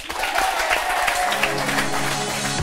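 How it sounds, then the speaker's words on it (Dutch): Clapping from a studio audience at a Frisian café-style show, sustained and fairly even across the whole moment, with a dense patter of hands and no pauses. "Nog één keer een groot applaus voor Wim en Hans Anker."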